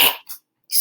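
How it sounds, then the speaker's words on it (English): A single sharp sneeze bursts out during a bioethics lecture, loud and close at the start, followed by a short fainter puff and a final breathy hiss, with no talking. "I'm going to sneeze."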